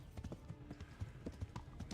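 Horse hooves galloping in the medieval video game Kingdom Come: Deliverance, a steady quick clip-clop rhythm, close and continuous over a low rumble.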